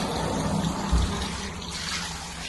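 Drinkable water runs from a roadside water source in Romania, a steady near splashing flow with a brief heavier gush partway through, no talk.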